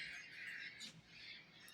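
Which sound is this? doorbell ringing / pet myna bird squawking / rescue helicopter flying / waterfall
pet myna bird squawking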